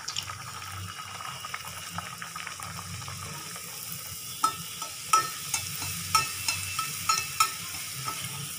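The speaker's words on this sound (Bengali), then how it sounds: "এবার এটাকে আমরা গরম তেলে ভেজে নিব।" Luchi fries in hot oil with a bubbling sizzle throughout. Toward the end, a run of regular, evenly spaced scraping or splashing strokes sounds up close.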